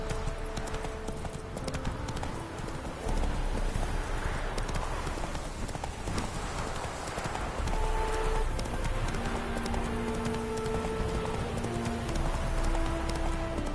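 Geralt's horse Roach gallops in The Witcher 3, steady rhythmic hoofbeats clip-clopping close and loud for the whole stretch, with game music tones sounding faintly underneath.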